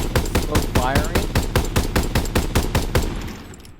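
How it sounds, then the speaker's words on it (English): Bren light machine gun firing in Call of Duty, a loud, close burst of evenly spaced rapid shots in steady rhythm that stops abruptly and leaves a short fading tail, with no talking. "the Bren gun. Now, it's slow firing."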